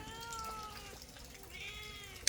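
A cat meows softly, a few thin drawn-out cries at moderate distance over a steady outdoor background, ending with a brief sharp click.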